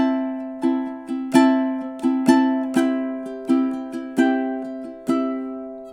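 A ukulele is fingerpicked solo through House of the Rising Sun, close and clear: about a dozen bright plucked notes ring over one another in an uneven, lilting pattern across six seconds, each one decaying before the next.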